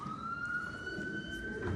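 A police siren sounds from outside a church during a service, a faint, distant wail holding one steady rising tone throughout, with low room rumble and no speech.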